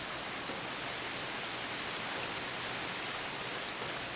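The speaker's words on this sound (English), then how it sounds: "This is real Indian rain," Steady, dense rain falls on the Indian coast, a continuous even hiss of drops with no pauses and no voices.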